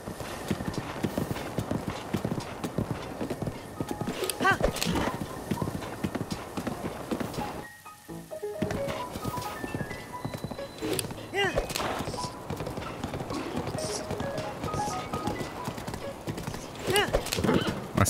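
Horse hooves clip-clop steadily in Zelda: Breath of the Wild, with a neigh among the loud, busy game sound and music, and a short near-silent gap midway through.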